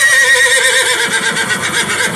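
A horse of the King's Troop Royal Horse Artillery at Horse Guards gives a loud, close, drawn-out whinny that fills the whole moment, with no talking over it.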